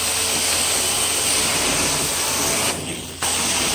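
A carpet cleaning wand sprays rinse water across a carpet, producing a loud, continuous close-up hiss that briefly eases off near the end before resuming, with no talking.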